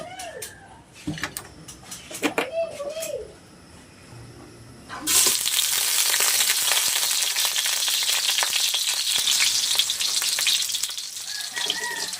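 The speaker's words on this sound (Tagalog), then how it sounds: "Magigisa na tayo ng ampalaya." Bitter gourd (ampalaya) hits a hot pan and sautés, a loud sudden burst of frying sizzle that holds steady to the end after a quieter start with brief clatter and birdsong.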